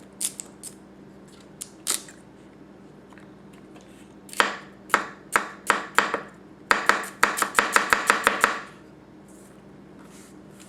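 A Tanaka Kurouchi 210mm gyuto knife chops through a very stiff, tough celery stalk on a cutting board, giving a few scattered cuts and then a rapid run of about a dozen crisp, close, loud chops with no talking.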